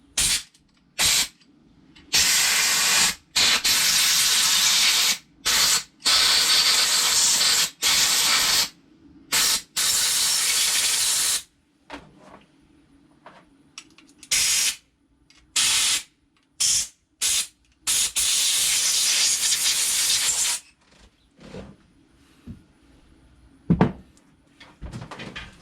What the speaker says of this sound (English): got the air blaster here, so let's do that instead